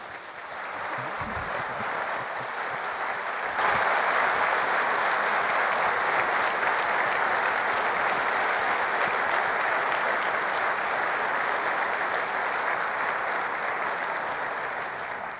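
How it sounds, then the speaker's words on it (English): A conference audience at a panel discussion in Boston applauds the panel, sustained full applause that swells after a few seconds and stays loud and steady to the end. "can you please join me in a round of applause?"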